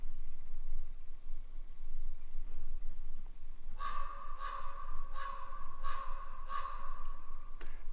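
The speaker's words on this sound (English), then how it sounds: "not a single sound except occasional crow" A crow caws five times in a steady rhythm from a moderate distance on a quiet morning, each call harsh and evenly spaced, against a quiet background hiss.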